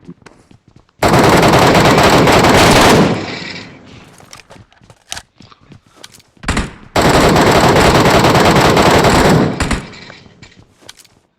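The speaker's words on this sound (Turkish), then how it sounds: "niye bana sıkıyorlar?" Loud automatic machine-gun fire in a video game rips out in two long sustained bursts, separated by a stretch of scattered single shots and clicks.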